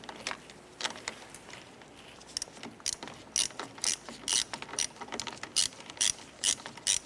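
Close, repeated ratchet clicks from tightening the power steering pump bolts on a 1990s Ford Ranger come in short bursts, with a few quiet gaps between strokes.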